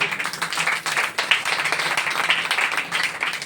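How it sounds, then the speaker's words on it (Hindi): A church congregation claps steadily in dense, rapid applause throughout, fairly loud and close, with a faint voice mixed in. "बोले यीशु मसीह की एक बार तालियां हो जाए।"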